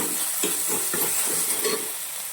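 Onion and tomato sauté in hot oil for pav bhaji, a steady close sizzle broken by rhythmic scrapes of a spoon stirring the pan, with no voices.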